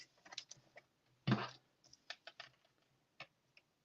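A paper trimmer slicing cardstock for a stamped card, heard as a short quiet swish of the blade among light taps and clicks of handling.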